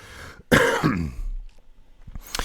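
A single harsh throat-clearing cough bursts out loudly, followed by quieter rustling and faint murmurs.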